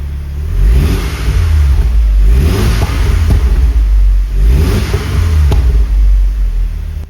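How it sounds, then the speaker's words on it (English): An Audi TTS engine running just after a first-time start, revving up and back down in two clear surges over a steady loud idle, close by with no talk. "Yeah, there we are, fired up first time."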